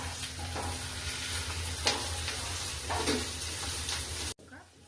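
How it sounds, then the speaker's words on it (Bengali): Mustard greens and chopped onion fry in a pan as a tadka, a continuous close sizzle with a few stirring scrapes, stopping abruptly near the end. "এখন ভালো করে তড়কা লাগাবো যত সুন্দর ফ্রাই হবে অত থেকে টেস্টি হবে"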